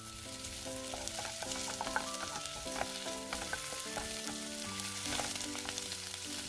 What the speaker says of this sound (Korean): 이제 브로콜리와 햄을 넣고 잠시 볶아줍니다.